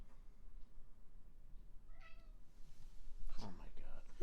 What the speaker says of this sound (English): This cat today.